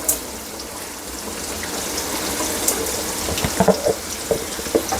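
Prawns frying in a pan with a steady, close sizzle and a few louder popping crackles toward the end, no voices.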